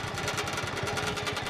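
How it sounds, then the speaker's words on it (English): A John Deere 110 garden tractor engine runs close by, a steady, pulsing mid-pitched chug with a rapid rhythmic flapping and rattle from a loose belt. "Most of that noise is probably the belt flopping around."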